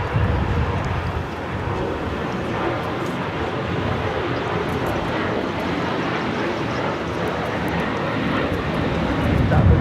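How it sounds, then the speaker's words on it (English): An Airbus A380 bound for Seoul takes off at LAX, a loud, steady broadband jet roar that holds throughout and swells slightly toward the end, close and continuous. "taking off to Seoul on the A380"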